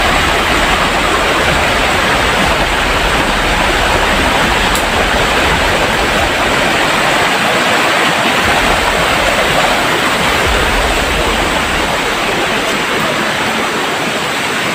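Water rushes steadily along a creek, a dense, constant hiss and roar of flow that is loud and close, with no break from start to finish.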